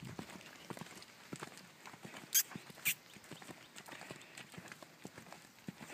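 Hooves of a horse cantering on a lunge line in side reins, a soft rhythmic clip-clop of steady strides, faint and fairly distant, with two brief sharp clicks partway through.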